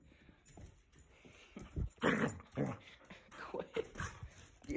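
A dog whimpers and makes agitated, yelping vocal sounds up close in short bursts, mixed with a person speaking to it.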